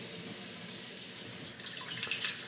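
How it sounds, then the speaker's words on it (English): A red spatula is rinsed under a running kitchen tap after mixing cheesecake batter, a steady hiss of flowing water with brief splashy changes near the end as the utensil moves through the stream. "We're going to wash the red spatula."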